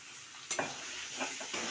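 Crushed spices and banana flower sizzle and crackle in hot oil while being stirred, with a few sharp clinks of a utensil against the pan.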